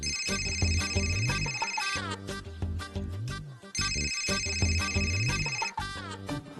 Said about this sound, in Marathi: मम्माचा फोन आहे